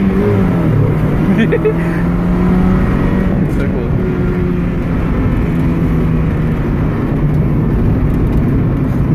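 A Mazda Miata's engine runs close and loud, a steady low drone with rising revs, while people talk over it.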